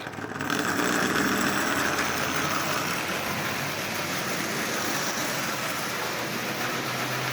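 A Marx 400 toy train locomotive with a rebuilt single-reduction motor runs at about 30% power, pulling a tin lithographed car. It makes a steady, close mechanical whirring rumble that rises at the start and then holds evenly throughout.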